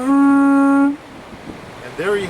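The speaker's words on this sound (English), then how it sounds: "There you have the sound of conch shell." A loud, sustained horn-like blast from a conch shell holds one steady pitch for about a second, then fades into quiet room noise before a brief voice.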